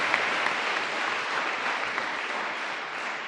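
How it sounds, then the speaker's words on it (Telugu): A crowd at a jubilee prayer gathering claps steadily, a dense, even wash of applause that holds at a constant level throughout, moderately distant with no voices standing out. "గట్టిగా చప్పట్లు కొట్టండి"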